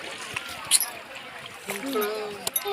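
Gentle water splashing and sloshing as a small round coracle carrying several seated people is paddled at Hogenakkal Falls, with a few sharper splashes and faint background voices.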